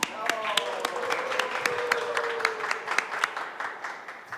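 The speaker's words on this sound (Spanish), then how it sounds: "Un gran aplauso para el festival." Audience at a festival event applauds with sharp, scattered claps standing out over a continuous crowd wash, fairly close and gradually fading toward the end.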